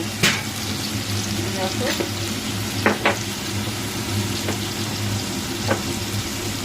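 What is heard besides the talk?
spice paste (masala) sizzling while being sautéed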